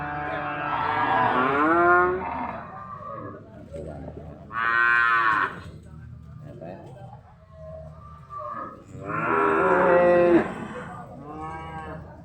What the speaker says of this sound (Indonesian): ini dari khusus sapi pedaging dan indukan